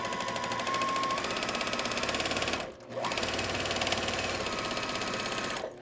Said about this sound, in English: now I'm just going to stitch those on using a quarter inch seam allowance